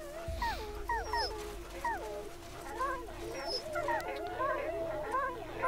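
Dogs whimper and yip in the Wasteland 2 video game, a string of short rising and falling whines repeating over a low steady background hum.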